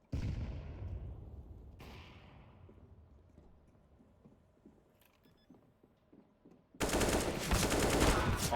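Counter-Strike gunfire during a match: an opening burst, a second volley, scattered faint shots, then a loud sustained automatic burst near the end.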